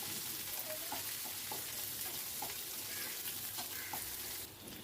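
Chopped onions frying in oil in a pan for bitter gourd curry, a soft, even sizzle with light stirring and scraping, quiet and steady before fading at the end.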